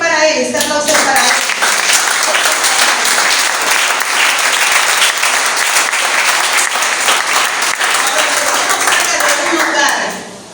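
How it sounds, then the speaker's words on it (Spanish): A church congregation breaks into loud, sustained applause with dense continuous clapping, a few voices mixed in, holding strong for about ten seconds before tapering off. "este aplauso es para Él"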